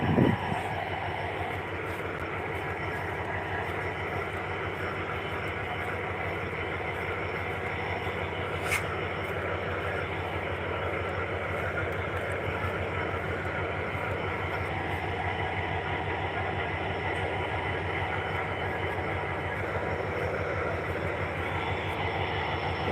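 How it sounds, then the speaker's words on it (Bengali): A long, heavily loaded freight train rumbles steadily past on the line near Gopinathpur station, a continuous loud near rolling roar with wheel clatter throughout. "দেখছো ট্রেনটা কত বড়"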